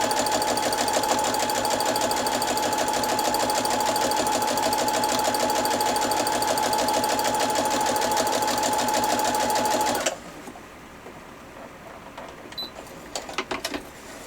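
A sewing machine runs a fast, even stitch along a folded fabric edge guided by a presser foot, a steady mechanical whir for about ten seconds that stops abruptly, leaving faint handling clicks.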